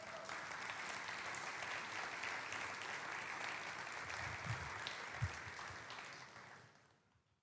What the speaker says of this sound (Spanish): Aplaude esta palabra de Dios.